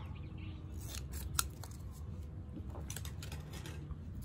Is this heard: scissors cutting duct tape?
yes